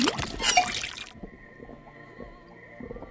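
Liquid drips from a faucet into a cauldron in the Detective Grimoire video game: a short burst of splashy pouring, then a thin sustained tone with faint scattered drips trailing off.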